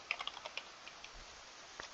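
Quick, light key clicks from a computer keyboard come in a short irregular burst, then slow to a few scattered taps against a quiet background.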